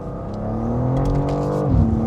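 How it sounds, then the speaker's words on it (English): A BMW G87 M2 with the S58 engine roars under acceleration, its rising engine note loud, close and continuous, then shifting pitch near the end with no voices over it. "this raw, kind of roar that the S58 has"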